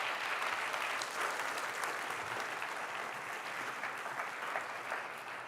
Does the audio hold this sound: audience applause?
yes